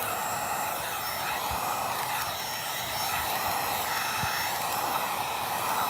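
Heat gun blows hot air onto vinyl wrap film at the corners of a truck, a steady loud whooshing fan hiss that continues without a break, with a couple of faint low thumps underneath.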